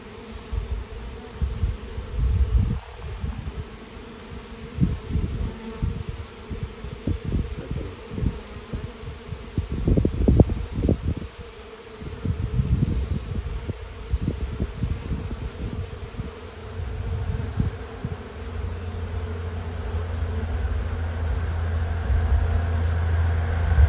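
A swarm of bees hums with a continuous, close buzzing while a beekeeper looks for the queen among a mass of bees, with dull knocks and handling sounds and no talking.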